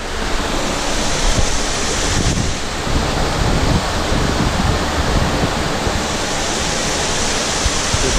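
Pond water rains down onto bulk multicolored plastic pot scrubbers in a filter and falls back into a large backyard pond, a steady broadband splashing rush like a small waterfall that holds constant, close and fairly loud, with no voices.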